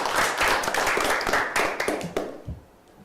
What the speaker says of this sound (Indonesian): tepuk tangan dulu untuk Nona Chelsea